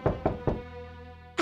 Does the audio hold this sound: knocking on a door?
yes